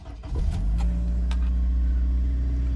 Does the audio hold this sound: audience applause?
no